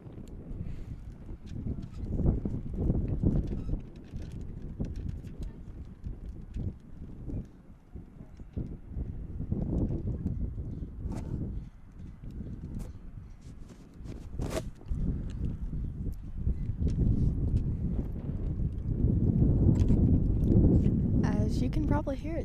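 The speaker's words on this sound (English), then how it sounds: "As you can probably hear, it's very windy." Strong gusty wind buffeting the microphone at an outdoor high school baseball game, a loud continuous low rumble that swells and eases while people talk throughout.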